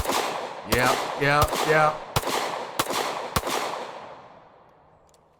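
A 1911 pistol firing 230 grain full metal jacket .45 ACP loaded with modern powder, six sharp, loud, close shots at uneven intervals with echoing decay, and a brief spoken word among them.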